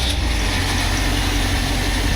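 A BV206 tracked vehicle's engine idles steadily just after a cold start, a close, even, continuous rumble with no throttle changes and no talking.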